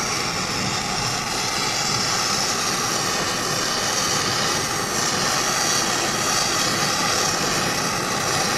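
A torch heats rusted metal parts of a 1928 Maytag engine, a barn find. It gives a loud, steady, close roaring hiss that holds level throughout with no pauses.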